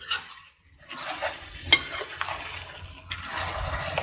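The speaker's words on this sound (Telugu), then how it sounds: "ఈ మిశ్రమాన్ని చక్కగా బాగా కలుపుకోండి" Chili powder is stirred into a village-style country chicken curry, with a spoon scraping and clinking against the pan amid soft sizzling; bursts of stirring come and go, with one sharp metallic tap midway and no voices.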